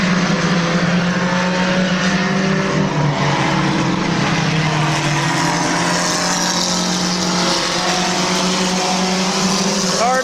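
Race cars running three wide for the lead at Midvale Speedway, engines droning loud and sustained as the pack passes, with a steady roar filling the whole stretch.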